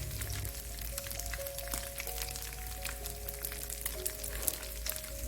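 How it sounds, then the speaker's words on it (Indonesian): Small anchovies (teri) fry in hot oil over medium heat, producing a steady, soft crackling sizzle with scattered sharp pops and no talking. "goreng di api yang sedang tapi di minyaknya panas ya"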